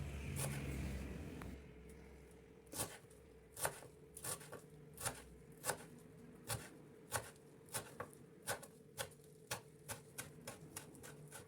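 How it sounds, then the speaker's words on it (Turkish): A knife chops parsley steadily on a cutting board, about a dozen sharp, evenly spaced taps after a brief low rumble at the start. "bir tutam maydanoz doğruyoruz ince ince de örüyoruz"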